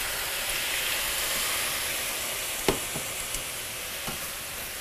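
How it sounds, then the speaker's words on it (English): White wine hits a hot pan of vegetables and garlic, sending up a steady close hiss of sizzling with a few soft clicks and pops of stirring. "and you'll hear it sizzling."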